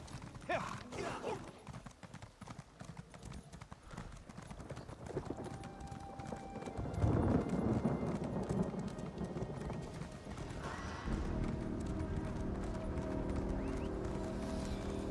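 Horse hooves clip-clop and gallop in the video game The Elder Scrolls Online, with a rhythmic hoofbeat that grows louder midway and carries on steadily over game ambience, with no talking.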